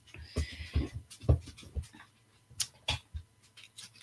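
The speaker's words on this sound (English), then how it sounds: "the dogs are out and free" Dogs roam loose indoors, giving off a scatter of short panting huffs, snuffles and small yelps with tag jingles, close by and fairly quiet in irregular bursts.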